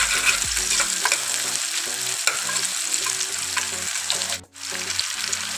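Chopped onion, garlic and ginger with added sugar frying in a pan on low flame, a steady loud sizzle with stirring scrapes and a brief dip in sound near the end.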